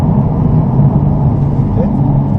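A Nissan GTR engine holds a steady, loud drone from inside the cabin as it pulls on a track at constant throttle, with a low, even hum throughout.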